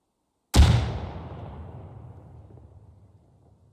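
A single frag grenade explosion in Arma 3, a sharp close blast with a long rumbling decay trailing off over about three seconds, alone with no talk.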